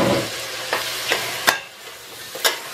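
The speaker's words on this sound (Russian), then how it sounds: "Мы будем обжаривать грудку в масле где-то в течение 5 минут" Steady low sizzle of chicken breast frying in butter, with a few sharp clacks of a utensil against the pan at irregular intervals.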